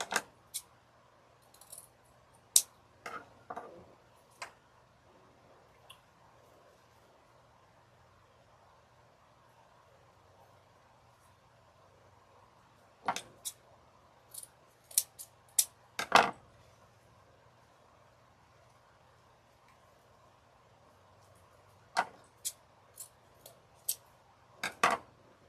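Paper is trimmed with scissors for a cat door hanger in sparse bursts of crisp snips, several quick cuts in each group, separated by long quiet pauses in a calm indoor room.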